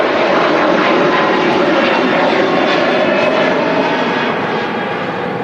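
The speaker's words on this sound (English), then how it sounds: "Turkish Airlines 321 Neo." A Turkish Airlines Airbus A321neo takes off from Manchester Airport, its engines roaring loud and steady as a broad sustained rush that holds strong throughout the climb with no talk over it.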